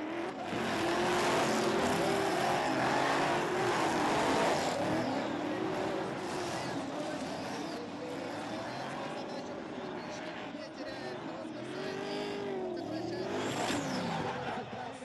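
Drift cars battle in tandem at an Eastern European Drift Championship round in Riga, Latvia, engines roaring and revving with tire squeal over a sustained loud rumble, while a commentator speaks over the action.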